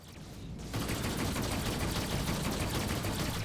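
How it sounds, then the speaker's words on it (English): A laser turret in a space video game opens fire after a brief quiet moment, unleashing a dense, continuous barrage of rapid shots that stays loud and unbroken to the end. "Okay, that's a laser turret."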